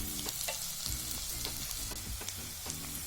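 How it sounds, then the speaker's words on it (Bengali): Onions frying in a pan as a spoonful of ginger paste goes in, for a peas and potato masala; a steady loud sizzle runs throughout with scattered stirring scrapes and clicks, no talking. "পেঁয়াজটা হালকা ভাজা ভাজা হলে এরপর এতে 1 চামচ আদা বাটা দিচ্ছি"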